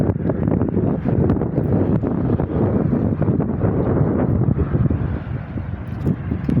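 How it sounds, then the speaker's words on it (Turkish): Wind blows hard outdoors in an airy spot and buffets the microphone, making a loud, steady low roar with gusty rumbles throughout and no speech. "Bir de burası mesela havadar."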